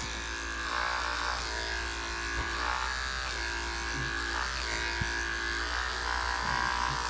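Electric clippers run with a steady motor buzz while doing a rough pre-cut on a Labradoodle's fur, with a 3/8-inch guard attached. The hum stays continuous and close, with slight shifts as the blade moves through the coat.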